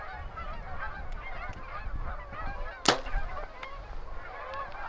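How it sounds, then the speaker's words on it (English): A goose honks repeatedly outdoors, a steady chorus of nasal calls at moderate distance with a sharp click partway through and no speech. "Can we hit a goose?"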